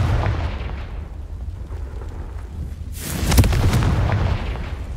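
A Confringo fire spell from the Hogwarts Legacy video game bursts at around three seconds into a loud, bright blast with a crackling rumble that lingers, preceded by a low ambient hum.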